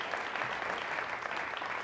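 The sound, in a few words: audience applause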